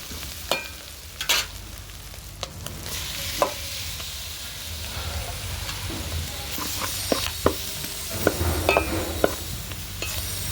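Tomato pieces frying in a pan over a wood-fired stove, a continuous sizzle broken by repeated scraping and clinking of a stirring utensil, close and fairly loud, with no talking.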